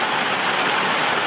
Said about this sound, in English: We got a serious leak, and we got a serious rain going on here.